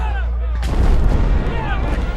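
Artillery fire from the French counter-offensive in a First World War battle: a sudden loud blast at about the half-second mark opens into a sustained, heavy barrage rumble with faint whistling tones above it.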